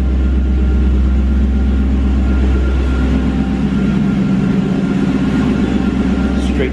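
A Lexus SC400 engine with a 2.5-inch straight exhaust from the manifold and no caps runs loudly and steadily nearby, a deep, constant rumble with no pause.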